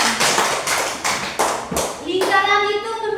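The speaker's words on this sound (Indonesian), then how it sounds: "Oke, tepuk tangan untuk Evan" Children in a classroom clap their hands in a short burst of uneven claps during a maths lesson, followed by a voice speaking.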